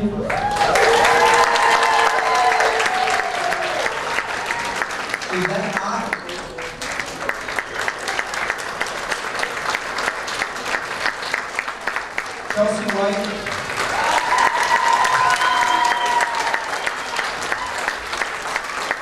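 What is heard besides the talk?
audience applause at a dance performance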